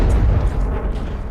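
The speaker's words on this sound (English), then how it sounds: "there's this series of explosions right very close to us" Explosions going off a couple of hundred meters away in Kandahar, heard as a dense, continuous low rumbling boom filling the moment, loud and close with no clear gaps between blasts.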